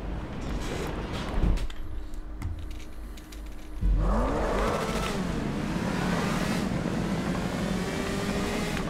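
Motorbike engine from GTA 5 gameplay, a steady droning roar with rising revs and whooshing passes, a brief dip near the middle, then sustained loud engine noise to the end.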